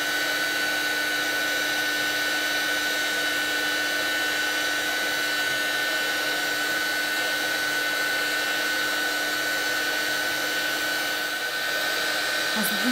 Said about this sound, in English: As the heat gun gets up to temperature, you'll notice you can move on to the next part of the border quicker.